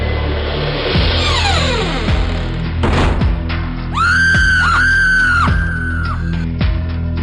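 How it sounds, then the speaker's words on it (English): Horror sounds in the PSVR game Dying Reborn: a loud bang like a door, then a rising, wavering scream-like cry swelling between more thuds, all close and with no talking. "I heard a door or something and someone scream"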